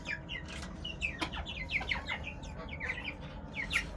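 Young Bresse chicks in a poultry coop chirp in quick, high repeated peeps, several overlapping at close range against a low background hum.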